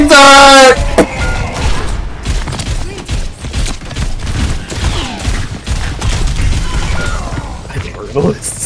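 A level 3 turret fires in Overwatch amid a chaotic game fight, dense rapid gunfire and impacts under excited shouting, loud and continuous after a brief horn-like tone at the start.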